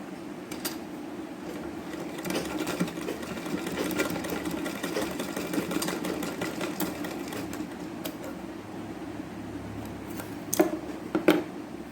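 Sewing machine stitching a cloth bow-style sleeve runs in a steady close whirring burst, with a few sharp clicks and handling taps near the end and no talk.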